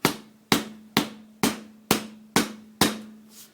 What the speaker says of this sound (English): Then we take a hammer, or you could use your feet or whatever,